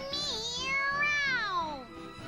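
A voice imitates a cat's meow in the video game Tales of Berseria: one drawn-out, close and clear meow that rises, holds, then slides downward.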